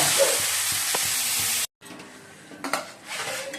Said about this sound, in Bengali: কষিয়ে নিই ভালো করে।